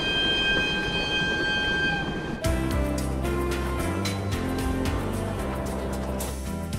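A train rolls along in an anime film with a steady, loud rumble and rhythmic clatter. Before that there is a short stretch of sustained tonal music or ambience. No one speaks over it.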